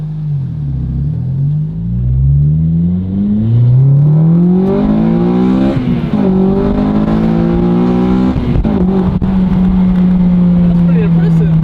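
Honda Civic Si 8th-gen FA5 with a Hybrid Racing cold air intake accelerating hard, engine note climbing steadily through several gear shifts with loud induction roar up close inside the car; a voice talks briefly over it.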